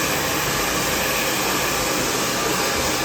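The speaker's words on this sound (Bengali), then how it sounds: "এই এবার আমি ড্রায়ার দিয়ে হেয়ারটাকে শুকিয়ে নেব" A hair dryer blows steadily and loudly at close range while drying a hair patch, giving a constant whooshing roar with no pauses.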